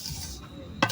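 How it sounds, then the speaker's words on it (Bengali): Rice frying in a pot for pulao gets stirred in a steady low scrape and sizzle, with one sharper clatter near the end. "আমি চালটা ভাজি করবো সুন্দর করে।"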